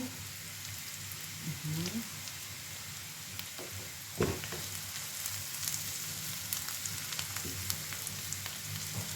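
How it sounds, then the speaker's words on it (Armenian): Oil sizzles in a pan with basil just added, making a steady crackling fry with a few louder pops, close and continuous with no talk. "Մի քիչ էլ յուղ ավելացրեցի, ավելացնում եմ ռեջանը։"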